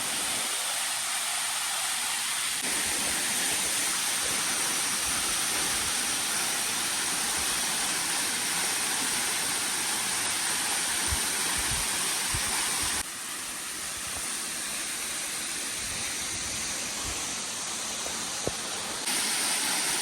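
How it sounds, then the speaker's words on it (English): A waterfall about 60 meters high in Japan, heard from a viewpoint, gives a constant, loud, broad roar of falling water that lasts unbroken for the whole twenty seconds. "That's the view of the waterfall."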